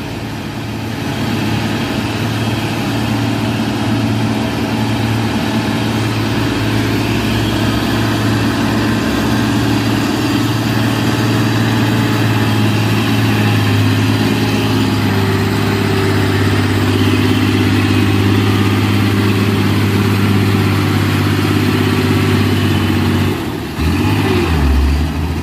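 A Hino Jumbo truck engine runs with a deep, steady rumble throughout, sounding close and loud with a low throbbing drone that shifts slightly near the end.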